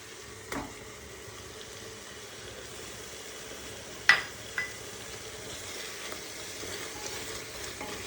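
Tomatoes stirred with turmeric and ginger-garlic paste in a pan give a faint, continuous simmering sizzle, broken by a few sharp spoon clinks against the metal.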